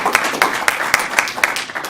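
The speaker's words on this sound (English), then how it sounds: "So let's give us a round of applause." A small audience at a Toastmasters meeting claps, with individual hand claps standing out in a quick, fairly even rhythm over a softer wash of applause, close and moderately loud.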